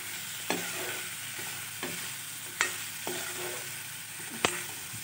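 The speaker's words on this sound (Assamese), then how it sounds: "এতিয়া কোমোৰাখিনি ভালদৰে লৰাই দিম।" Ash gourd fries in a pan with a steady sizzle, while a utensil stirs it and knocks against the pan a few times at irregular intervals, close up with no talk.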